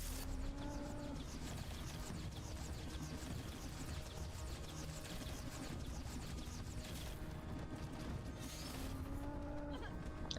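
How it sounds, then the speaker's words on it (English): Faint moos from a primal cow in a survival video game, a few drawn-out calls over a constant background hum. "The primal cow?"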